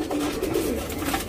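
A black Guldar tournament pigeon coos in a low, steady, throaty rolling murmur that runs close and unbroken through the short moment.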